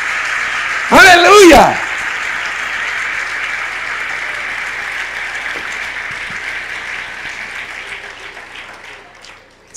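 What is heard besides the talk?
congregation applauding in church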